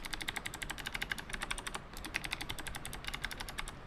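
Rapid, continuous typing on an NMB RT8756CNW keyboard fitted with black clicky Space Invader switches, a dense stream of crisp clicks close by with short pauses, no talking.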